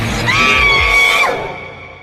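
A woman's loud, sharp scream held for about a second, then breaking off and trailing away, heard alone with no talk.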